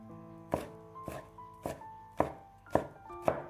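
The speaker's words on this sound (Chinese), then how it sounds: "再准备一些大蒜，先拍扁，再给它切成蒜末" A kitchen knife chops smashed garlic cloves into fine mince on a cutting board, six sharp, fairly close knocks spaced about half a second apart, with no talk.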